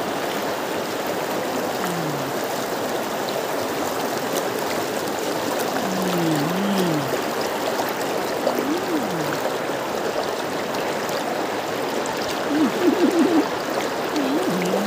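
A river dammed for irrigation runs with a steady, broadband rush of water, close and continuous, with faint chirping birdsong drifting over it.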